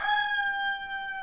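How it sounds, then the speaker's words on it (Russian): A young rooster crowing: one drawn-out, slightly strained cock-a-doodle-doo held close and loud for its whole length. "Эти молодые петушки, когда начинают кукарекать"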